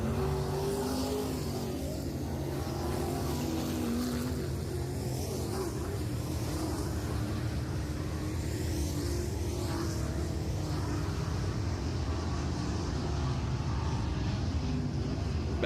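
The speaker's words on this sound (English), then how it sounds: "Bells with about a 3-truck advantage now over Curtis Rice." Steady roar of racing pickup trucks on a track, a dense continuous drone that swells slightly without letting up.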